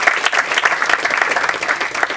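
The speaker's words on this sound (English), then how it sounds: "Please give them a huge round of applause" An audience at a college promotional event for the film Madari bursts into loud, continuous applause, with a brisk patter of many hands close by.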